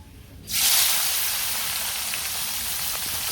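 Small fish are dropped into hot oil, setting off a sudden loud burst of hissing sizzle that settles into a steady, close frying hiss after a quiet moment.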